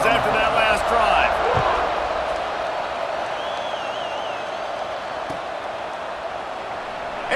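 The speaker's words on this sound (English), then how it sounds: "this crowd is feeling themselves after that last drive" Stadium crowd noise from the College Football 26 video game, a broad steady roar sustained throughout with a brief whistle-like tone partway and a commentator talking over it.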